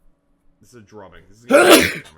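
A single sharp, close sneeze bursts out in the middle of casual talk about NFL football predictions, with voices speaking just before and after it.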